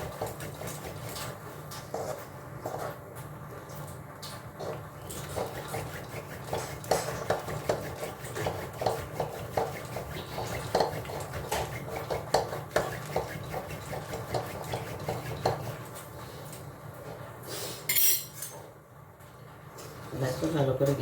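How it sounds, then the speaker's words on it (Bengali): Masoor lentils being mashed in a pot with a dal masher, giving repeated scraping, knocking and squelching strokes over a steady low hum. "তাই জন্য ডালটা ঘেটে দিচ্ছে একটু"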